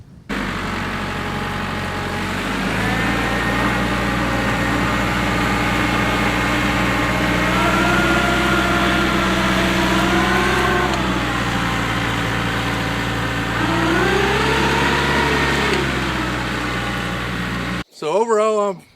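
A TYM tractor engine runs steadily on a farm while pulling through biodegradable mulch, a loud, even hum with rising and falling tones as the load changes, cut short near the end.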